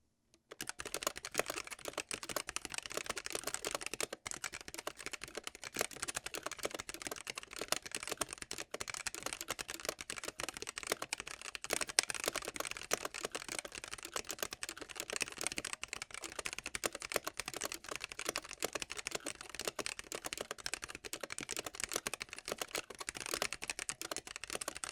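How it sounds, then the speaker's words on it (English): Steady, continuous typing on a Gamakay K66 mechanical keyboard with stock switches, a dense stream of close, crisp keystroke clacks with no talking. "But now let's hear the stock sound test."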